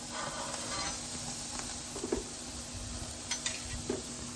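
A reverse-seared burger sizzles on a grill just after being set down, a steady close hiss of frying broken by a few small pops and crackles.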